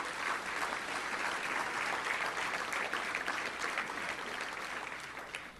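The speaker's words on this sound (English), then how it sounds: "Let's give them a big round of applause today." Audience applause for sponsors at a Little Rock Touchdown Club luncheon, a steady, dense wash of many hands clapping that holds evenly for the whole stretch and tapers slightly at the end.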